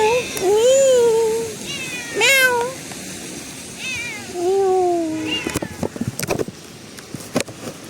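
A cat meows several times up close, drawn-out rising and falling cries in short bursts, followed by some clattering handling noises near the end.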